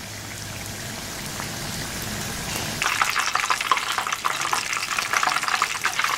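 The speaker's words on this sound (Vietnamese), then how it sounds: "Và cho ngay vào chảo dầu nóng." Batter-dipped eggplant slices are dropped into a pan of hot oil, and a soft hiss jumps into a loud, steady crackling sizzle that continues close and alone.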